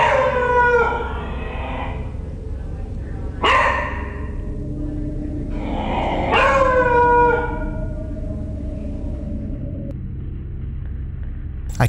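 A dog in a kitchen howls and whimpers in drawn-out, wavering tonal cries, with a longer sustained howl near the end, fairly close and alone without speech.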